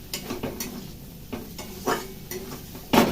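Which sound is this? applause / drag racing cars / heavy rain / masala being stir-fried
masala being stir-fried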